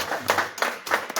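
Short burst of applause at a sustainability and ESG summit press conference, a few seconds of scattered hand clapping from a small audience, close and alone.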